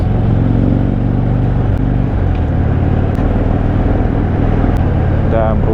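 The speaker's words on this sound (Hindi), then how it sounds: "बद्री वैली में हम हार्ले दा थ्रॉटल हम पूरा खोले।" A 2013 Harley-Davidson Dyna Classic motorcycle at full throttle on mountain curves in the Badri valley, giving a loud, steady, deep engine roar that holds for the whole stretch with no break.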